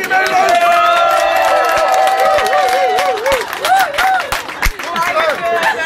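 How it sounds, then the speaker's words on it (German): Harley Garage Wallau team applauding aboard a boat trip, a steady wash of clapping mixed with cheering and crowd noise that continues under loud overlapping talk and a tonal music-like layer. "Ein Applaus für die Meldung!"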